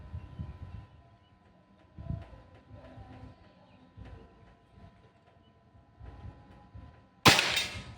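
A Pajero Gen 6 air gun fires during an accuracy test. One sharp, loud crack comes near the end, after several soft thuds in an otherwise quiet setting.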